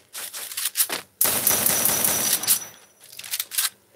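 Bursts of rapid gunfire come from a Free Fire Max mobile game match: a few short loud volleys, then a longer sustained burst of automatic fire, then more brief shots.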